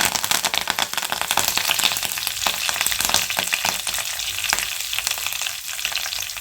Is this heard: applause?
no